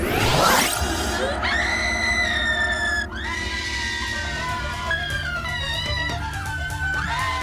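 Shrill, sustained screaming from people yelling at each other in a film, loud and unbroken for the whole stretch, with the pitched cries rising and sliding against a steady backing.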